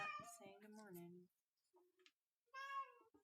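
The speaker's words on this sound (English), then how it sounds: "The cat is the loudest meow you've ever heard in your life" A house cat meows loudly in a home art studio, several drawn-out cries close by, with long quiet gaps between them.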